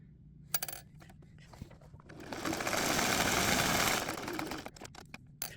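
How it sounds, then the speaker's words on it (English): Close by, a sewing machine runs a zigzag stitch in a short whirring burst lasting a couple of seconds, framed by scattered clicks and handling noises before and after. "I've got my machine set up to a zigzag stitch, and so we are going to zigzag all the way around."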